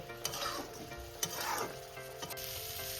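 Mustard greens stir-fried dry in a pan, with a steady low sizzle and repeated scraping strokes of a spatula against the metal, close and moderately loud with no voices.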